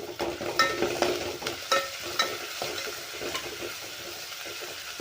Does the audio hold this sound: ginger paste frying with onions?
yes